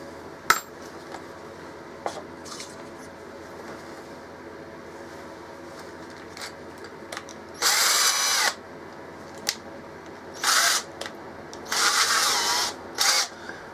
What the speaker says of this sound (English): So I'm going to drill the holes